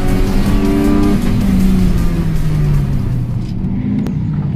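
A rally car drifting around a cone at a grip and rally event, a loud, close engine roar with a slowly falling pitch and a continuous tyre squeal under it, easing off toward the end.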